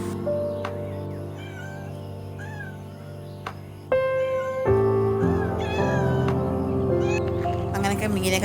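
A kitten mewing several times, small high-pitched cries over steady background music, while being fed fish scraps.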